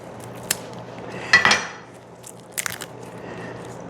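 A knife chopping green onions for wonton soup, giving a few sparse, sharp clicks and taps against a cutting board over a quiet kitchen background.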